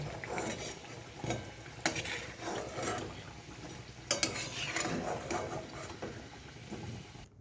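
Steady frying sizzle of thekua in oil over a low flame, with occasional clinks and scrapes of a utensil in a pan, moderately close, no talking.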